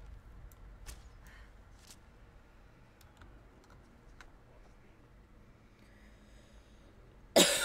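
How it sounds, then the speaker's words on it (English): A single sharp, loud cough bursts out at the end after a stretch of quiet, with faint keyboard-like clicks and soft breathing before it. "I'm really sorry about the coughing, guys."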